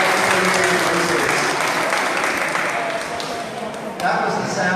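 An audience claps loudly, and the dense applause holds steady for several seconds with a brief dip near the end.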